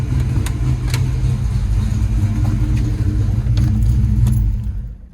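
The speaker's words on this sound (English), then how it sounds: "let's shut the car off here" A Foxbody Mustang engine idles with a loud, steady rumble, then cuts off near the end and falls quickly to silence.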